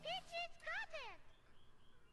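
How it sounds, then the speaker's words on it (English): A bird chirps and sings outdoors in a few short, bright warbling phrases, close and clear, followed by a quieter tail of faint background noise. "listen to the bird over there, though. Isn't it cute?"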